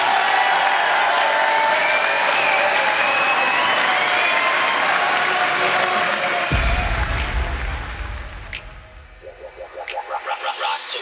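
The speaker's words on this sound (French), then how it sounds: "je vous demanderai de les applaudir bien fort" Spectators at a French adapted-sport wrestling championship applaud the wrestlers with dense, loud sustained clapping and some cheering. The clapping fades near the end as music with a rhythmic beat takes over.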